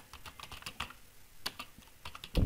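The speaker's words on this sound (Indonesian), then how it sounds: "kemudian kita tekan di keyboard tombol tabs" Keys clatter on a computer keyboard in quick irregular bursts, close and alone, ending with a louder thump as the Tab key is pressed.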